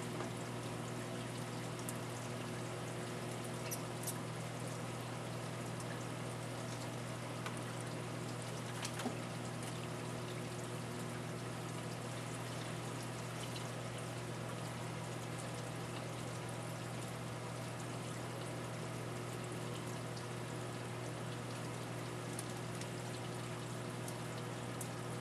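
A prototype aquarium protein skimmer draining into a sump tank gives a steady, unbroken rush of flowing water over a constant pump hum, quiet and even throughout with no voices.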